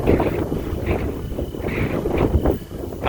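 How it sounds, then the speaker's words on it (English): Steady cold wind roars and buffets the microphone in low rumbling gusts outdoors in western Kansas, loud and continuous throughout, with faint scuffs underneath. "boy is it cold and windy"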